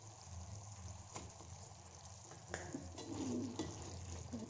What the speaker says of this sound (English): Let us stir.